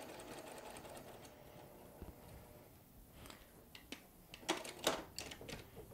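A sewing machine stitches a quilt block, a soft mechanical whir at moderate distance that eases off midway, followed by a few sharper clicks and thumps near the end.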